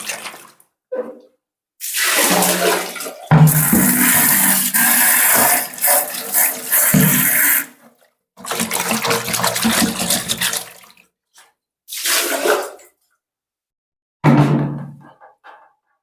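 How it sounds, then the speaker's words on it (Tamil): Buckets of water poured into a septic tank, heard as several loud rushing gushes, one long and others shorter, separated by pauses. "3 பக்கெட் தண்ணி வந்து ஊற்றிட்டோம்"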